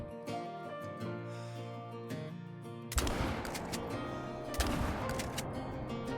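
A shotgun blast rings out in a Call of the Wild hunting game during a sika deer hunt, one sharp report breaking over a quiet musical background, followed by a second burst a moment later.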